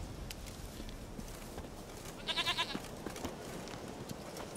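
A goat in The Witcher 3 video game gives a short bleat, a brief wavering burst of a few pulses at moderate volume over a game's ambient background.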